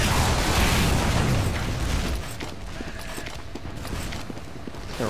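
A rocket jump explosion in a Team Fortress-style shooter with soldiers and spies, a loud burst that decays over about two seconds, followed by quieter scattered clicks and mechanical game sounds.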